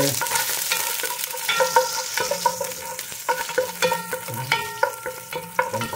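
Ginger dropped into hot olive oil in a pan for sinigang, a loud close sizzle with repeated rhythmic spatula scrapes and taps against the pan.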